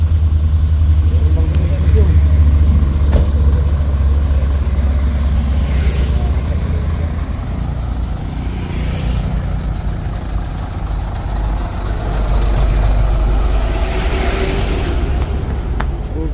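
A Hino trailer truck engine rumbles low and steady close by, idling throughout, with people talking over it.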